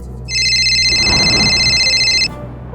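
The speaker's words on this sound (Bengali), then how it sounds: "এমন সময় শৈলর পকেটে থাকা ফোনটা বেজে ওঠে।" A mobile phone rings loudly and close with a steady electronic tone for about two seconds, then cuts off abruptly. No voices are heard.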